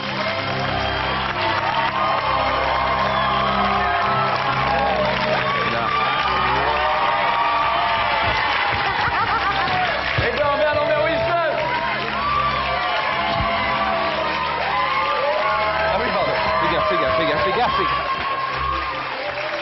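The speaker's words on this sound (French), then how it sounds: "Je demande d'applaudir Edouard Baird et Lambert Wilson" A large Cannes audience applauds and cheers for actors, sustained loud clapping with whoops and shouts running the whole time under a bright, busy crowd roar.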